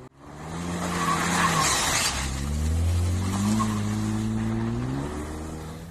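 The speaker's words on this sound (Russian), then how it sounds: "Машина с ревом дрифтует в темноте." A BMW drifts at night, its engine roaring loudly through rising and falling revs while tires squeal and skid across the pavement, continuous and close for several seconds.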